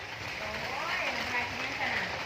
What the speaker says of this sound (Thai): แต่ตอนนี้ฝนตกค่ำพี่น้อง